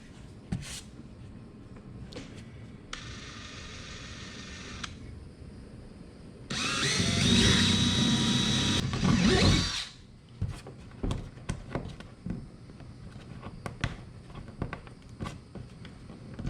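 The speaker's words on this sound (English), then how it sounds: "Then we're going to use our 5/16 drill bit" A power drill with a 5/16 inch bit bores holes while a trolling motor kit is installed, with a short whine, then a louder grinding run of a few seconds, followed by scattered clicks and handling knocks.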